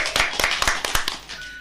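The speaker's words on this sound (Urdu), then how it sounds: "یہاں ہم تالیاں بجوا سکتے ہیں" An audience at a children's radio show gives scattered applause, about a dozen distinct hand claps in loose, uneven rhythm, close and fairly crisp, tailing off near the end.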